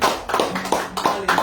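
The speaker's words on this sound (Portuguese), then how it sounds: "Você pode aplaudir ao Senhor?" Church congregation clapping in praise to the Lord during a Portuguese-language family service, a brief patter of several uneven rhythmic claps at close range, fairly loud.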